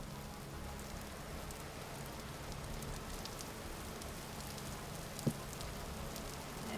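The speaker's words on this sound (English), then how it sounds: "And now it's raining." Steady rain falls in the video game Vintage Story, an even, soft hiss of raindrops on surfaces continuing at low volume throughout, broken once by a brief faint click.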